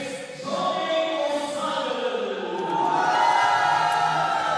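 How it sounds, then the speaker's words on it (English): Snooker arena crowd roaring and cheering as Ronnie O'Sullivan enters at the Xi'an Grand Prix 2024, a swelling wash of voices that builds and holds loud to the end. "And there's the roar. The crowd are absolutely loving this."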